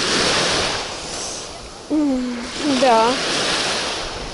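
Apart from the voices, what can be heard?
sea waves at the shore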